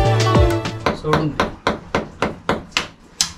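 A hammer strikes repeatedly while Krishna Janmashtami decorations are being put up: about ten sharp, evenly spaced blows land close by, with a brief voice and some tonal noise near the start.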